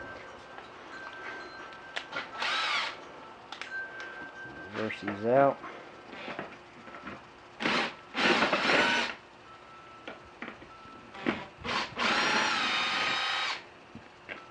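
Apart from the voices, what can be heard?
power drill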